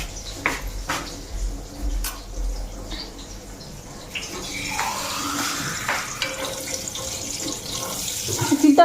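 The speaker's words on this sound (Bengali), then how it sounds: "ফিল্টারে জল দিচ্ছি তো।" A kitchen tap runs water into a water filter, a steady close splashing stream that starts partway through and grows louder. A few light clinks and knocks come before it.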